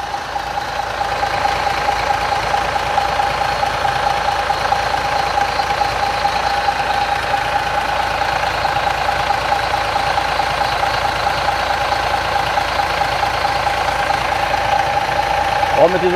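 A MAN A21 city bus engine idles with a steady, loud diesel rumble and a constant drone that runs throughout without change, recorded close to the engine.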